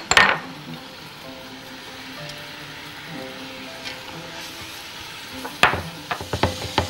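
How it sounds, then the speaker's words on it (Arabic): Vegetables and carrots go into a pot for fajita pasta, with a loud clatter at the start, a low steady sizzle, then more sharp clinks and scrapes of utensils against the pot near the end. "يلا بينا هنزل الخضرة ونزل الجزر"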